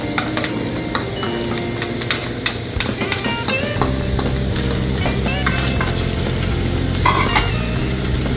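Garlic, onions and sweet peppers sauté in olive oil in a pan, giving a loud, continuous close sizzle with frequent clinks and scrapes of a utensil stirring, no voices.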